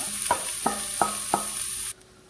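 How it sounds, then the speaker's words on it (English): Carrots sauteing unseasoned in a little oil on a powerful stove, a continuous close sizzle broken by four evenly spaced stirring scrapes, then cutting off abruptly near the end. "So I've been sauteing the carrots just with a little oil, unseasoned at this point."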